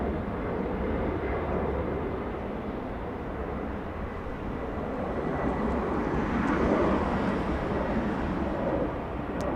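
A LATAM Cargo Boeing 767 departing Los Angeles International toward Miami produces a continuous broad jet roar at a distance, steady with a slight swell partway through.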